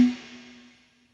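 Electric guitar with reverb applied: a single struck note rings out and decays smoothly over about a second into a reverberant tail, heard alone.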